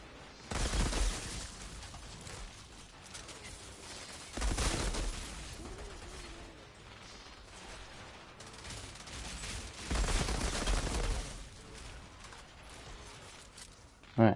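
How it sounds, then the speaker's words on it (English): Automatic shotgun fire in the video game Outriders comes in three loud, booming bursts spaced a few seconds apart, each rolling into rattling debris and impact noise, over a busy game soundscape. "Man, I love these automatic shotguns."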